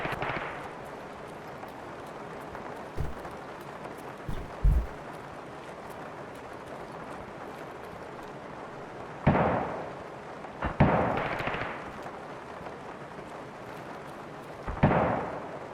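Distant full-auto gunfire in Escape from Tarkov comes as scattered short muffled bursts and booms spread across the stretch, over a steady low ambient background.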